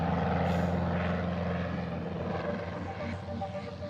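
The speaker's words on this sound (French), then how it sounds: "Bon, Charlie, on est posé. La problématique technique, on va dire, de l'hydravion" A seaplane's propeller engine drones steadily up close, a continuous loud hum with a slight fade toward the end.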